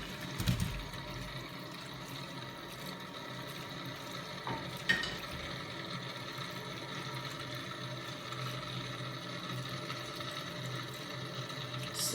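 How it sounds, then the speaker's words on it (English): Water from a pot of boiled potatoes pours out in a steady, continuous rush, with a couple of brief clunks near the start, close by and without talk. "so I'll drain the water"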